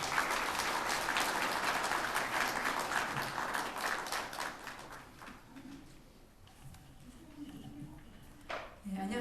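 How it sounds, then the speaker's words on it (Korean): Applause from an audience at a science forum opening ceremony, a dense burst of clapping that swells at the start, then thins and fades out over several seconds. "큰 박수 부탁드립니다."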